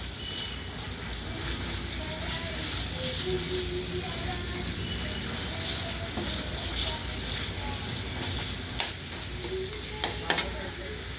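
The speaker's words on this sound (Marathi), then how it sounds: "आता ही तेलामध्ये पेस्ट तळून झालेली आहे" Spice paste fries in oil with a quiet, continuous sizzle and a few faint clinks of stirring near the end.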